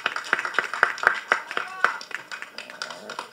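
At a film trailer launch event, a handful of sharp handclaps ring out in a loose rhythm, mixed with people talking.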